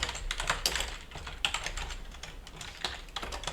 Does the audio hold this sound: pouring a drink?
no